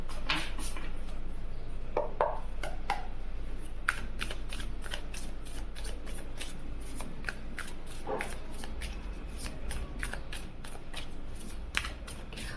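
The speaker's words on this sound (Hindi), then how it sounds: "अब हम जिसके बारे में आप ये रीडिंग देखना चाह रहे हैं उनके लिए कार्ड शफल करेंगे।" Tarot cards are shuffled close up in a long run of crisp, rapid riffling bursts and flicks, repeating steadily over a low background hum.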